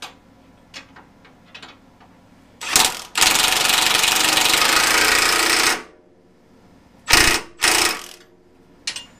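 Wrench work on the differential of a Toyota Tundra in a tight spot under the truck, sounding as soft mechanical clicks and then a long, loud burst of ratcheting or spinning, followed by a few sharp metallic bursts.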